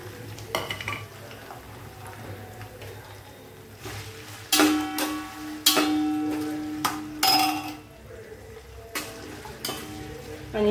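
Finely chopped potatoes fry in a pan with chilies and curry leaves, a low steady sizzle punctuated by loud metal spoon knocks and scraping stirs against the pan.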